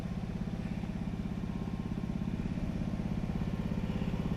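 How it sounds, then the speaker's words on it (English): An old Sears generator powered by a Wisconsin engine runs steadily at about 1800 RPM, a close, even, low chugging drone with a fast regular pulse and no talking. "So I'll just let the generator run a little bit and call it a day."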